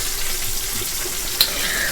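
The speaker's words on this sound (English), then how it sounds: "I have some water boiling because I'm gonna make some rice." A pot of water boiling on a home kitchen stove for rice, a steady hissing, bubbling wash heard close and alone, with one brief clink partway through.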